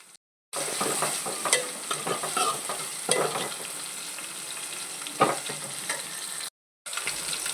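Garlic and ginger tempering with curry leaves frying in a pan, a steady close crackling sizzle with occasional stirring scrapes, cut off abruptly at both ends, no talk.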